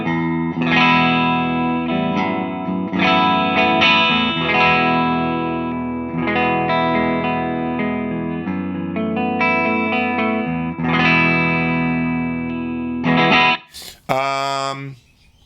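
Fender Jazzmaster through a Fender Bass Breaker 15 amp set to a clean tone, recorded via a Two Notes Captor X into a closed-back 1x12 cabinet with a Celestion V-type speaker; loud, close strummed chords and ringing notes, played alone.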